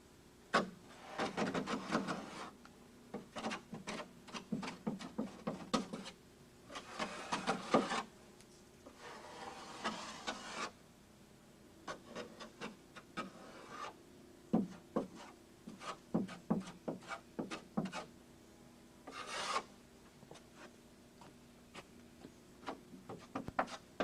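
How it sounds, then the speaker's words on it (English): Bondo body filler being spread into voids on a wooden duck boat, heard as a long series of close scraping and rubbing strokes in bursts, with knocks and quiet gaps between passes and no talk. "Just mix the Bondo, this is sanded later, but just fill in those voids."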